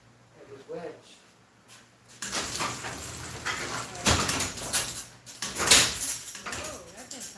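A stuck, wedged old garage door is forced upward by hand, giving loud bursts of scraping, rattling and banging in uneven surges, with people talking close by.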